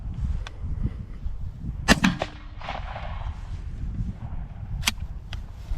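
A suppressed Remington 11-87 shotgun with a short ported barrel fires a slug, giving a sharp muffled crack with a quick echo over outdoor background noise, followed later by a second brief snap.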